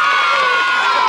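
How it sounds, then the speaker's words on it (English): A sitcom studio audience of kids and adults cheers and shouts loudly in a dense, sustained roar of voices throughout. "Let's give Dorothy a great big Ha-Ha cheer"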